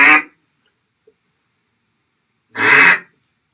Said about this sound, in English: So that's your basic quack.